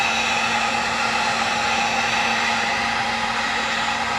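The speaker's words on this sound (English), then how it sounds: "this heat gun is, probably well over 500 degrees Fahrenheit" A heat gun running at well over 500 degrees Fahrenheit, used to reactivate veneer glue while restoring a 1938 Philco 38-7CS radio cabinet, gives a steady, loud, close-up blowing roar with no breaks and no talk.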